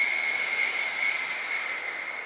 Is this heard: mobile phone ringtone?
no